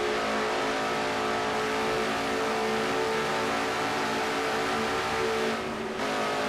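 An onboard stock car engine roars at Bristol Motor Speedway in a racing video game, a loud, steady high-revving drone that holds for several seconds with a brief dip near the end.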